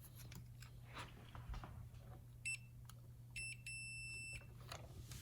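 Continuity beeps from a multimeter testing a canister vent valve circuit on a 2006-2013 Chevy Impala: two short bursts of high steady tone, the second longer, over a low hum and faint handling noise.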